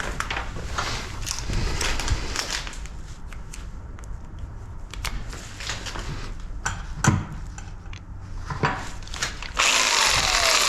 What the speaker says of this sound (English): jigsaw.